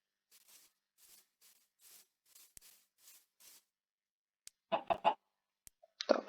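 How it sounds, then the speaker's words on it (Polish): Chicken clucking in Minecraft, a series of soft short clucks in a regular rhythm, followed by a few louder, sharper squawks near the end, with no talk. "Dobrze, tu tylko kurczak."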